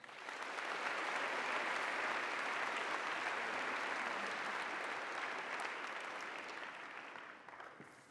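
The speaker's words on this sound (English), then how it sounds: "Let's give them a round of applause." A school assembly audience applauds during spring sports recognition, a dense, sustained round of clapping from a large crowd. It swells in quickly, holds steady for several seconds, then thins out toward the end, with no talking over it.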